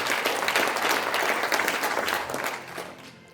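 An audience in a large conference hall at the National Assembly members' office building applauds an introduced guest at a rally. The clapping is dense and loud, then fades out over a few seconds.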